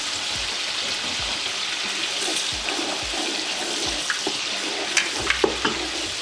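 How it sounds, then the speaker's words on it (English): Cashew nut paste sautéed with softened tomatoes for a mutton kofta biryani, giving a steady close sizzle. Stirring scrapes and soft clinks sound across the pan, and a few sharp taps come near the end. "At this point of time, I'll add in my cashew nut paste and saute it well."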